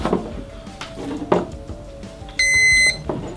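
A battery charger gives a single steady electronic beep, high and clear, lasting about half a second amid clicks and handling noise.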